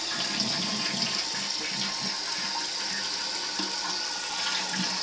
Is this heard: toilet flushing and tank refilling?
yes